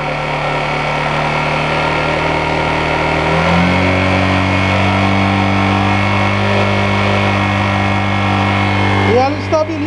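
A Honda CG 125 Fan motorcycle engine idles, then is revved up and held at a higher steady speed, loud and close, before easing back near the end.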